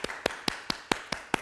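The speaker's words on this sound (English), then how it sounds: "So maybe we could put our hands together and clap and see if we can get Catt to come" Hands clapping in a slow, even rhythm of seven crisp, close claps, spaced about a fifth of a second apart, with nothing else heard between them.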